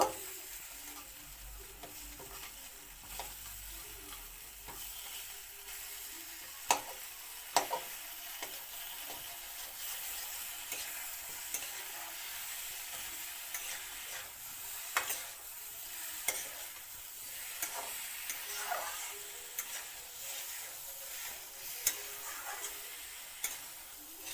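Fried rohu fish heads are stirred and broken up in a pan of sizzling spices for a pumpkin curry. The scraping and frying sound is steady throughout, with sharp clicks from the spatula and no voices.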